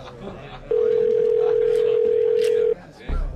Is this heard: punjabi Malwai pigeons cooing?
no